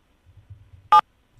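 Pressing 7 on a mobile phone keypad gives a single short, clear tone after a moment of faint low rumble.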